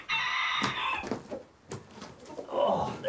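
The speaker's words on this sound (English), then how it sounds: "These are my chickens I've brought over." Light Sussex chickens arriving on a farm cluck and call in short, close bursts, with a rooster-like crow and some rustling noise mixed in.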